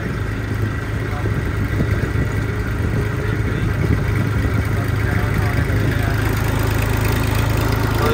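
A heavy tractor engine, hauling two loaded trolleys, runs with a steady low chugging drone and rattling throughout, while a voice speaks over it.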